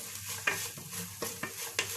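Capsicum being stir-fried in a hot pan while cooking chicken egg fried rice: steady sizzle with four or five distinct scraping, clinking stirs of a utensil against the pan, close and fairly loud.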